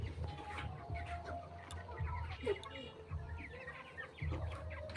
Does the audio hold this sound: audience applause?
no